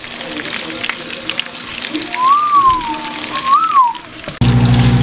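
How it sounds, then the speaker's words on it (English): Breaded, seasoned perch and bass pieces frying in hot oil, a steady close sizzle and crackle with a rising tonal whine over it and a sharper hiss burst at the end. "We got them sizzling in there now."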